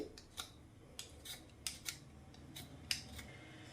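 Quiet, sharp knife cutting clicks as ginger is chopped into small pieces, a dozen or so irregular snips and taps, close by against a faint background hush.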